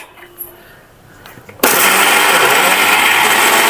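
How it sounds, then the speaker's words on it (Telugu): A mixer grinder suddenly starts up after a quiet moment and runs at a loud, steady whir while grinding corn batter for corn vadas. "ఇప్పుడు మనం మిక్సీ వేసుకుందాం"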